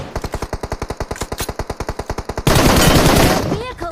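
A loud, rapid, evenly spaced string of close machine gun shots in a video game is followed by a heavier roar of sustained gunfire and blasts.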